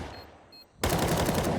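Counter-Strike match: after a brief quiet lull, a loud burst of rapid gunfire bursts in abruptly and keeps up, sharp and close.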